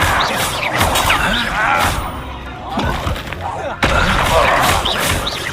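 Spell blasts cast in Hogwarts Legacy, including the explosive Confringo, burst repeatedly amid loud, busy game combat with crashes and impacts, ending in a sharp hit near the close.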